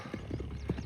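Horse hooves clip-clop in a steady, fairly close rhythm as a young horse runs around a ring, with a few louder thuds toward the end.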